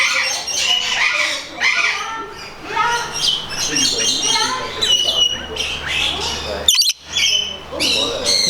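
Birds at a butterfly park near Empuriabrava, Spain squawk and chirp in a busy, overlapping chorus, harsh calls rising and falling close by, with a brief sharp burst near the end.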